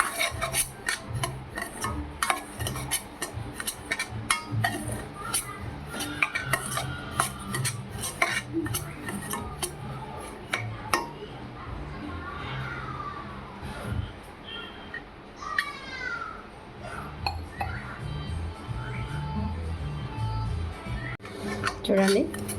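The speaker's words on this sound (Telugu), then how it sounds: "ఈ రవ్వను మనము దోరగా వేపుకోవాలి." Dry semolina (rava) being roasted in a kadai on a stove, scraped and stirred with a utensil in steady clinking, rasping strokes throughout, with birds cawing faintly in the background.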